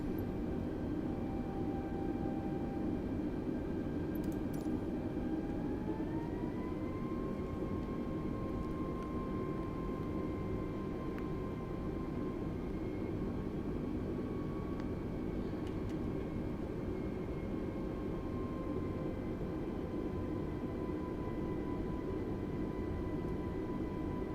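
Jet airliner departing in Microsoft Flight Simulator 2020, a steady broadband engine roar with a rising whine that climbs in pitch partway through, continuous and fairly loud throughout with no talk.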